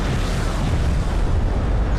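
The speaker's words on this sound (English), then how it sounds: "Avetorian is also launching a missile barrage too with his carrier" Missile barrage explosions from a carrier in the Homeworld: Deserts of Kharak real-time strategy game, a dense continuous rumble of overlapping booms with steady loudness and no distinct gaps, heard alone without talk.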